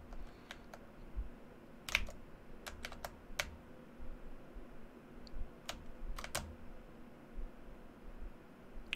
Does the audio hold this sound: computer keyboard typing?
yes